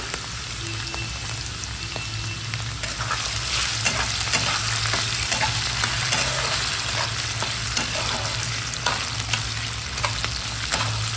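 Potatoes fry and get stirred in a pan while cooking mochar ghanto with prawn, a steady close sizzle running throughout with scattered scraping spatula clicks and no talking.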